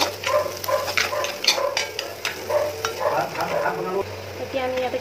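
Shidol chutney being stirred as it fries in a pan with cumin powder, a soft continuous sizzle broken by repeated scraping strokes of a spatula, close and moderately loud.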